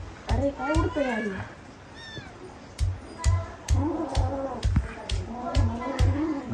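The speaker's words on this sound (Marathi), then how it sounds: "मांजरा बघा किती" Several cats meow repeatedly at home, short rising cries scattered among people's chatter, with thumps and household bustle around them.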